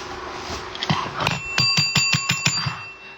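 A bell is rung in a quick run of about eight bright, ringing strikes that start hesitantly and then come evenly, close and fairly loud, with a faint murmur before it.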